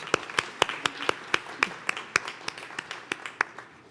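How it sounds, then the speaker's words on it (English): Steady, evenly spaced claps at a community college commencement, crisp and fairly close, with a softer bed of crowd applause behind them. "give him a round of applause"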